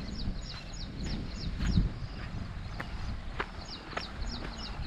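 Birds calling near rice fields, repeated short chirps spread through the clip over a faint background of running water and rustling, fairly distant and quiet.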